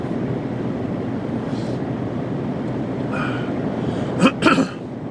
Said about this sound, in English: I've got a real dry, tickly cough this morning for some strange reason.